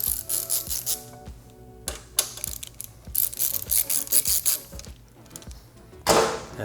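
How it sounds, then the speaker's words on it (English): Hand ratchet with a 12 mm socket loosening fasteners on a 2018+ Kawasaki Ninja 400 motorcycle, heard as close, crisp clicking bursts in repeated short strokes, some rapid, with brief pauses between and no talking. "Let's grab a 12mm socket. Let's loosen these fasteners here."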